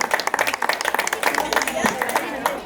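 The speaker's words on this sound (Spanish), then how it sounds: "bravo, el aplauso, por favor." Applause from guests at a child's birthday party after the cake, a quick run of claps close by with voices mixed in.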